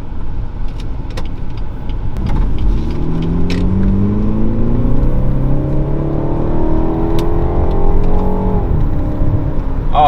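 A BMW 430i F32 engine revs hard through the gears on paddle shifters, pulling toward 6000–6500 rpm on a road in Abidjan. The loud rising drone climbs steadily and then drops with a gear change near the end, with no talking.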